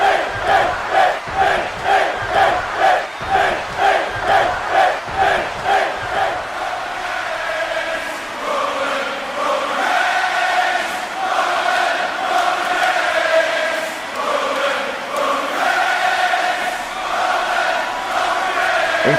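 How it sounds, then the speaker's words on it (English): A wrestling show crowd pulses in rhythmic, chant-like waves for several seconds, then swells into sustained, loud cheering and roaring that fills the arena with no break. "It sounds like the crowd here is split between Roman and Finn Balor"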